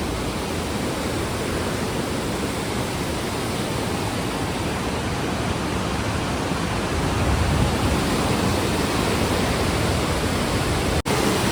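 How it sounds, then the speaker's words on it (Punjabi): Steady, loud rushing water roars without a break, a dense continuous wash of sound like a fast river close by, at Manikaran Sahib. "ਪਾਣੀ ਦੀ ਆਵਾਜ਼ਾਂ ਵਧੀਆ ਆਉਂਦੀਆਂ ਨੇ"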